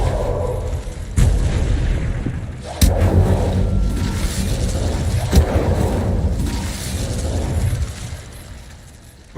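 A fire spell cast in Hogwarts Legacy erupts in booming, whooshing bursts, with sharp blasts near one, three and five seconds over a rumbling ambient game background.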